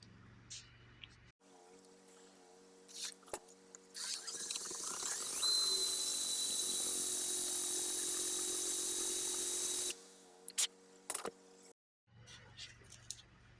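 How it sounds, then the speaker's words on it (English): A power drill with a twist drill bit whirs steadily for several seconds with a high, hissing grind as the bit bores into a guitar neck, then cuts off, with brief sounds before and after. "to a regular twist drill bit as opposed to a brad point"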